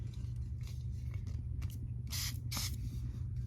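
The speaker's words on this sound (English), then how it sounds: "Just use it and set your whole face. Sun spray is different from fixing spray." Sun spray misted onto a face to set powdered foundation makeup, heard as two short, close hissing spritzes in quick succession over a low steady background hum.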